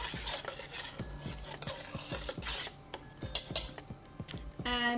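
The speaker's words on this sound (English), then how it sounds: "I'm just going to give it a mix" A spoon stirs couscous in a bowl, giving soft, quiet scraping and clinking strokes in an irregular rhythm, close by in a calm kitchen.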